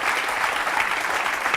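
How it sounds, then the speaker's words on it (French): A television studio audience claps in dense, even applause for a brief stretch, loud and continuous. "on peut l'applaudir"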